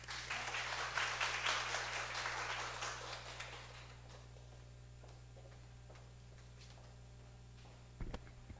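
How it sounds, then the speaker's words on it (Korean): Audience applause at a Korean mental health seminar, a dense patter of many hands clapping that gradually fades to quiet, faint and somewhat distant. "큰 박수로 맞아주셨습니다"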